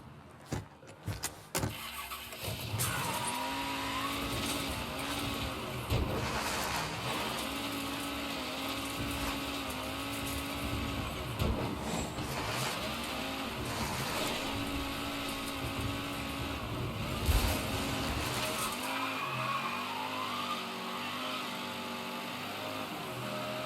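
Car engine in Mafia 3 running steadily at moderate loudness, with pitch rising and falling as it changes speed, under faint background game sounds and no talk.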